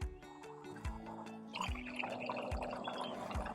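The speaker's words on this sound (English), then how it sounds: "The sound of it pouring," Freshly brewed green tea pours in a thin, steady trickle into a cup close by, a bright gurgling fill punctuated by several soft plops and drips as the stream settles.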